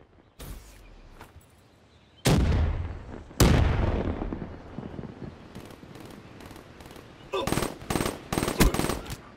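Light machine gun with a thermal sight firing in an online multiplayer shooter: loud sustained bursts with sharp cracks and heavy booms, then short repeated volleys near the end.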